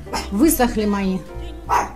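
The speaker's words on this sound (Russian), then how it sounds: "Простите за лай." A small dog barks and yips indoors in a flat during an evening of holiday craft-making, a few short barks mixed in with someone talking over them.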